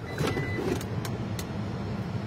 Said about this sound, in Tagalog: dagdag mo pa yung power liftgate